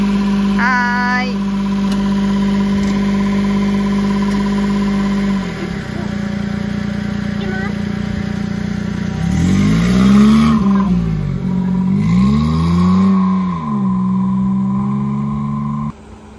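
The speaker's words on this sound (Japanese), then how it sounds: "トゥクトゥク乗ってみます。" Tuk-tuk engine running while driving along a coastal road near Tsunoshima, a loud steady buzzing drone that swells and dips as the throttle changes, with a brief voice near the start.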